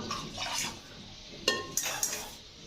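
Pots and utensils being washed with dish soap and hot water: a muffled rubbing swish, then a few clanks of metal vessels and cutlery knocking together, close and moderately loud.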